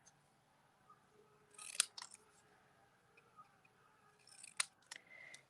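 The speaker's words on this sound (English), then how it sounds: "I'm going to probably cut this into little bits, separate the words" Scissors snip paper into little bits in a quiet room, two clusters of crisp, close cuts several seconds apart, each a few quick snips.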